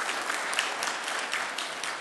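A church congregation at a Sunday worship service in New Jersey breaks into dense, steady applause that fills the sanctuary evenly from start to finish as a visitor is welcomed.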